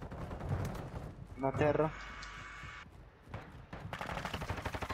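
Heavy machine gun fire in Warzone 2 comes in rapid bursts, mixed with game sound effects and a steady rattle of shots at the end, while people talk over it.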